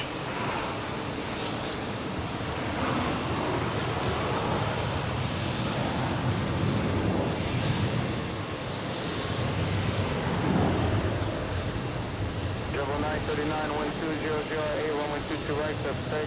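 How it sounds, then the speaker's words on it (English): JetBlue Airbus A321 jet taking off from runway 22 right at JFK International Airport, a broad, sustained roar heard from a distance that swells and fades slightly over the whole stretch. "Right, so takeoff."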